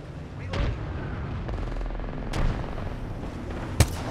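In the Apex Legends battle royale game, a frag grenade booms alongside rapid gunfire: several sharp cracks and dull blasts ring out over a constant rumble, with a hard, close shot near the end.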